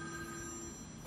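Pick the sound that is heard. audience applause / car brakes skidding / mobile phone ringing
mobile phone ringing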